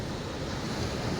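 Sea waves break along the shore at Diu, a constant loud wash of surf with wind buffeting the microphone and no speech.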